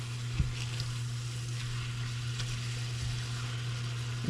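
Soft taco filling sizzles steadily in a pan while being stirred, an even close-up hiss throughout with a couple of faint knocks from the spoon.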